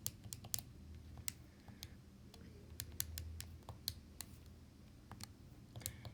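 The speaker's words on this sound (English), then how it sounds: "I'm going to type this into the calculator just to see if it reduces." Keys pressed on a graphing calculator keypad, a quiet irregular run of sharp plastic clicks spaced apart, close and faint against a soft room background.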